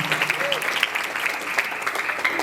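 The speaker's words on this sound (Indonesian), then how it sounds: "Tepuk tangan sekali lagi untuk kita semua." Applause from the audience at a grade 1 end-of-year school performance, a steady patter of clapping with voices and a brief chirpy sound mixed in near the start.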